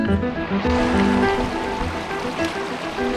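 South Fork Big Sur Creek rushes steadily over rocks on a backcountry hike in Big Sur, a close, continuous broadband wash of flowing water with no voices.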